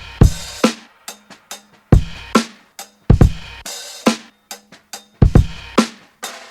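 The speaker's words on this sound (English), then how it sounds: "And so the drums together sound like this." Boom bap drum loop with a layered punchy kick, snappy snares and hi-hats, hitting in a steady looping groove, loud and close with sharp transients and no voices.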